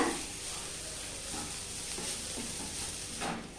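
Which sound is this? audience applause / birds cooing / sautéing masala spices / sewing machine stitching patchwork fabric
sautéing masala spices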